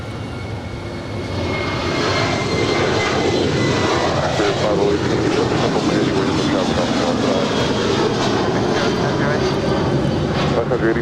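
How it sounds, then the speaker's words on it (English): A Korean Air Boeing 747-8 Intercontinental lands at LAX, its engines a loud, steady roar that swells after the first two seconds and holds, with a faint voice underneath. "747-8 Intercontinental landing up there on the north side"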